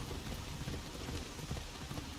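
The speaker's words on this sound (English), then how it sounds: "Is this rain scripted or is this just coincidence?" Steady rain falling in the video game Assassin's Creed Shadows after leaving a castle outpost, a continuous even hiss of drops on surfaces with no talk over it.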